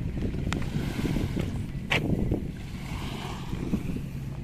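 Steady wind rush over rough sea water at a port on Samal Island, Davao, with waves churning and slapping nearby and gusts buffeting the microphone throughout.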